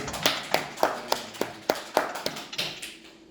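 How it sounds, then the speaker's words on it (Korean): Clapping at an Easter church gathering comes as a steady run of crisp claps about three per second, fairly close and tapering off near the end. "박수 한번 쳐주세요"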